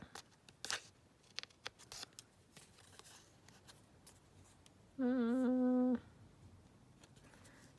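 Scissors trim collage master board in a few quiet, brief snips and clicks, followed by a loud steady electronic beep lasting about a second.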